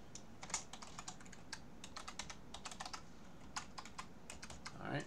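Fingers typing on a computer keyboard, a close run of quick light clicks in short uneven bursts with small pauses, quiet and without speech.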